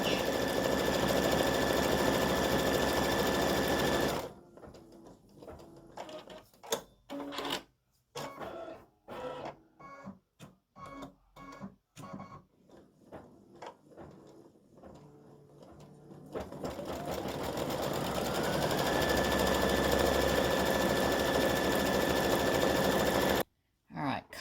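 Embroidery machine sewing small satin-stitch areas on a gnome appliqué: a fast buzzing whir that breaks into stuttering bursts and pauses as it moves between spots, then resumes a steady drone.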